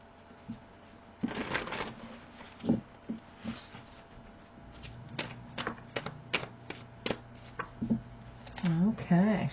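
Tarot cards are shuffled and drawn in short, papery riffles and soft flicks spread across the clip, close by, with someone talking intermittently over the card handling.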